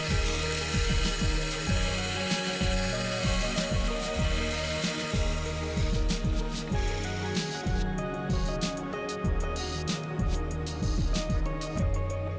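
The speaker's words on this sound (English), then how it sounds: "I use the mill to clean up the raw cuts and also to drop in a reference hole in the centre of each piece" A milling machine cleans up raw-cut brass gear blanks for an Antikythera mechanism model and drills a central reference hole, giving a steady close mechanical whir with repeated rhythmic cutting chatter throughout.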